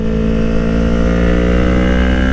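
Motorcycle engine pulling hard on a throttle roll-on, a loud, dense, continuous roar with steady harmonic drone and a slight rise toward the end, heard close up without talk.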